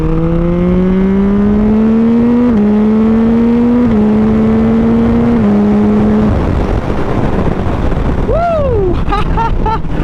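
A new-generation Yamaha MT-09 SP with a flashed ECU accelerates hard on a highway on-ramp, its engine note climbing through several gear shifts, then a loud rushing roar of wind and a quick rev blip.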